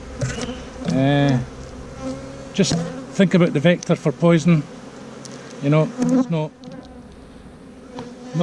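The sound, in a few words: honey bees buzzing during hive inspection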